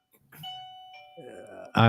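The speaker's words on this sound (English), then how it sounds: "That's my doorbell, Dina." A doorbell chimes with two sustained tonal notes, clear and moderately loud, followed by a voice starting to speak.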